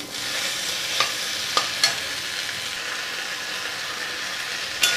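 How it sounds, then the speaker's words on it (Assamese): Vigorous sizzling of red amaranth stalks stir-frying in a pan over a high gas flame, a steady hiss broken by a few sharp utensil clanks. "গেছৰ ফ্লেমটো মই এতিয়া হাই কৰি দিছোঁ যিহেতু এইখিনি অকণমান সময় ভাজি ল'ম"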